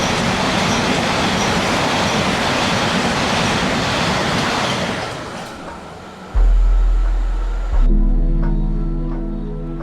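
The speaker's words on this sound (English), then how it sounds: "I feel like there's a tube train coming" A London Underground tube train roars past close by on the line, a loud sustained rush that fades, then gives way to heavy low rumbling bursts.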